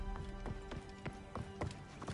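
Horse hooves clip-clop in Assassin's Creed Origins, a steady trotting rhythm of about ten close, sharp hoofbeats over a low ambient drone.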